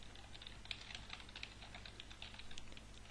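Quiet, close typing on a computer keyboard, a quick irregular patter of soft key clicks that runs for a few seconds over a low steady hum, with no voices.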